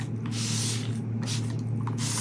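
Several short hissing bursts of 99% alcohol from a spray bottle, roughly evenly spaced, over a steady low electrical hum.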